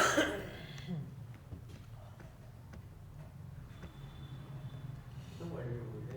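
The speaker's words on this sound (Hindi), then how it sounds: "तो खांसी ने दुखी कर रखा है" A person with a bad cough lets out one sharp, close cough and throat-clearing at the start, then the room goes quiet apart from faint ticking and a few soft sounds.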